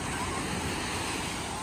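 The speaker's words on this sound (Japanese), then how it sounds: "波が結構すごい。" Ocean waves break at a summer beach, a continuous, loud surf roar mixed with gusty wind buffeting the microphone, with no one speaking.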